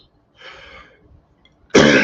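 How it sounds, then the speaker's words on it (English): Man coughing during a live stream in a studio: a muffled throat-clearing cough, a short pause, then a loud, harsh cough burst close to the microphone. "You start choking and coughing and dying."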